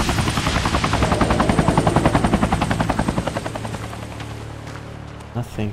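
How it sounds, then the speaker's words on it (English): Rotor blades of a helicopter in the video game Hitman, at the Dexter Industries level, beat in a loud rhythmic chop that peaks and then steadily fades into the distance, followed by a couple of brief, unrelated noises at the end. "There's the helicopter."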